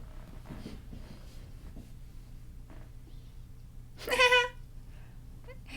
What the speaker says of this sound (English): And the cat is there helping.